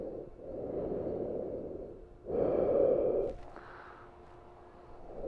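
Slow, audible breathing during a beginners' heart-opener yoga pose: a long exhale, a brief pause, a stronger breath, then quieter trailing air, all close and steady with no talking.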